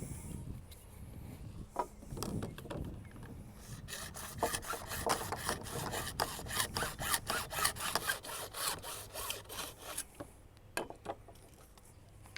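A hand saw cuts through PVC pipe in quick, rhythmic back-and-forth strokes, close and fairly quiet, with scraping rasps before and after the main run of strokes.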